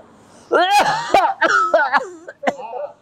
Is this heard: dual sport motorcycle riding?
no